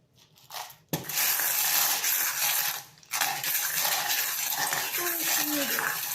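Small metal charms are shaken and tossed onto a metal tray for a charm reading, making a dense, continuous jingling rattle that pauses briefly and then resumes, close and fairly loud.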